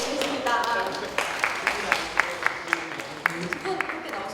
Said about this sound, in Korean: 박수로 한번 앞으로 모시겠습니다